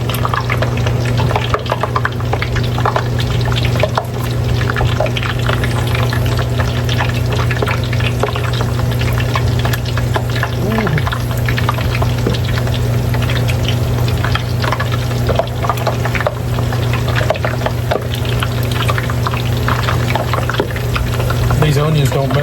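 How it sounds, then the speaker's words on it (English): Onions frying in hot grease give off a loud, continuous crackling sizzle close by, a constant low hum running underneath, with a person talking over it at times. "I'm gonna throw a few of these onions in here and cook them first"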